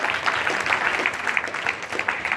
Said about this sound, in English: Can we give Ray a round of applause?